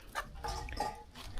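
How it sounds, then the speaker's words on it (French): A few chickens cluck in short, throaty bursts, close by, with a brief higher squawk among them, in a village in Adjarra, Benin. "Il y a des poules"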